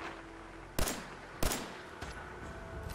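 Two loud gunshots ring out a little over half a second apart in Fallout 4, each with a sharp crack and a short ringing tail, followed by a fainter third report over a steady background hum.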